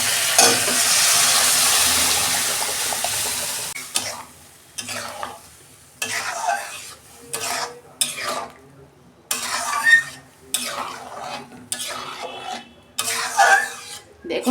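Lentils tipped into a hot pan with chili powder for a bottle gourd dal, a strong sizzle at first, then intermittent scraping stirring strokes in short bursts with pauses between.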